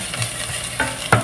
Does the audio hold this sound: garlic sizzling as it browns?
yes